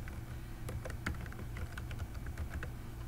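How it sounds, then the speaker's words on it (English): Typing on a computer keyboard, a steady run of light, quick key clicks with a few sharper taps, close and clear over a low constant hum, with no voices. "I would like to type out the word tuberculosis"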